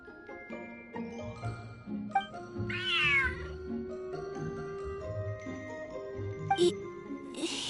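A cat meows several times in Genshin Impact, with clear tonal cries over soft game music and chiming tones, plus one drawn-out wavering yowl partway through.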